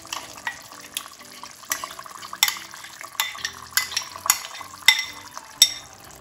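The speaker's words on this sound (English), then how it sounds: "now at this point, I'm going to add our yogurt mixed with all the spices" Yogurt mixed with spices being stirred into an aloo matar curry in a pan, heard as a run of close, repeated clinks and scrapes of a spoon against the metal, with soft wet sloshing between strokes and no talking.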